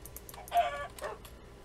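Chicken clucking in Minecraft with the Better Than Wolves mod: a few short, close clucks in a quick burst with faint game noise behind.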